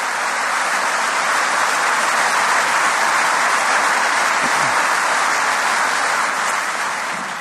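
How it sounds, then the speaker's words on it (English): Sustained audience applause fills a conference hall at Queen's during a Good Friday Agreement 25th anniversary event, a dense steady wash of many hands clapping at full volume for the whole stretch, with no talk over it. "let's give them all a round of applause."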